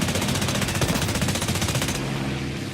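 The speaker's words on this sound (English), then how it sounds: "its 4 Shkas machine guns allow it to make short work of any opponent it encounters" Four ShKAS machine guns on an I-153M62 Chaika fighter in War Thunder hammer out a loud, continuous rapid-fire burst for about two seconds, then cut off, leaving engine drone.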